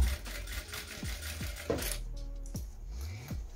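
Sewing machine stitching fabric for a Flying Geese quilted basket, with a few loud mechanical knocks spaced irregularly over a continuous whirring motor and then a burst of rapid stitching close by.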